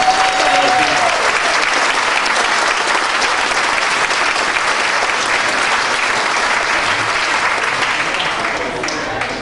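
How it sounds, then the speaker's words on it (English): Loud, sustained applause from a large audience at a Dancing With the Stars charity event in Auburn, a thick roar of clapping that fades slightly toward the end. "Big round of applause."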